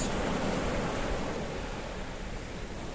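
Sea waves wash steadily onto the shore at Rikkos Beach in Paphos, a close, continuous rushing surf with no voices over it.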